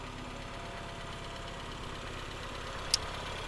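1994 Rover Mini Cooper engine idling quietly with a steady low rumble, plus a single sharp click near the end, faint and without speech.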